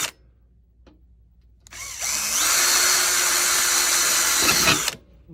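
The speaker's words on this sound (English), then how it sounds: "We use a step drill." A power drill with a step drill bit whines loudly and steadily for about three seconds, its pitch shifting as the bit cuts through a central vacuum power unit part, then stops abruptly; quiet before and after.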